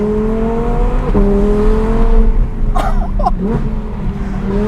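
An Audi R8 V10 Plus with a center exit exhaust revs steadily up close, a sustained engine drone broken by a short throttle blip, with brief bursts of sharper noise near the end.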